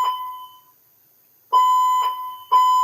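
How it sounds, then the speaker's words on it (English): An electronic alarm sounds in repeated bright, ringing tonal bursts, one at the start and then three more in quick succession after a short silence, loud and close with no talking. "There goes the alarm again."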